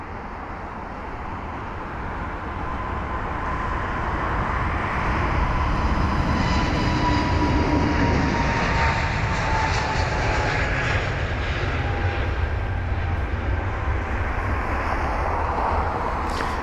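A British Airways Airbus A320neo jet departing Heathrow, its engine roar building over the first seconds into a loud sustained rumble and whine that holds steady throughout, no talking.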